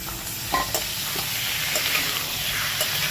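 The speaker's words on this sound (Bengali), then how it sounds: "এবার এটাকে একটু ভেজে নেবো মাছটাকে পেঁয়াজের সাথে।" Bombay duck fish fries with onions in a pan, a dense continuous sizzle with stirring scrapes and light clatter, close and without talk.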